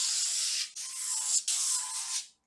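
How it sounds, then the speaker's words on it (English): Avocado oil spray hisses from a can onto the bottom of a baking pan in three close bursts, each steady and bright before cutting off, with short pauses between. "I like to coat the bottom of the baking pan with this avocado oil spray"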